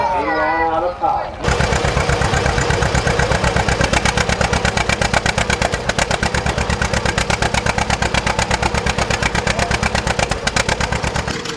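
A two-cylinder tractor engine at a two-cylinder expo parade chugs loudly and close in an even, rapid popping beat with a steady governed rhythm, after a few seconds of voices talking at the start.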